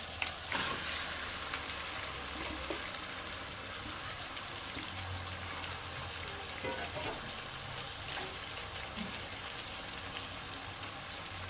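Marinated mutton fries in spiced masala, a dense steady sizzle like rain on a surface with occasional soft stirring scrapes and clicks, continuous across the whole stretch.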